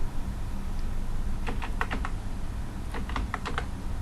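Computer keyboard keys tapped while entering a new root password, two short bursts of quick keystrokes over steady background hum, no talking.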